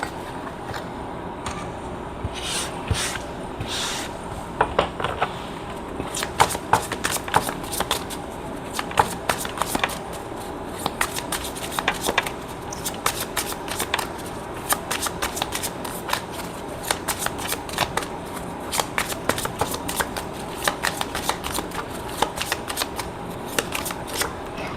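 Tarot cards are shuffled by hand close up, giving a long run of irregular crisp riffles and flicks with no voice over them.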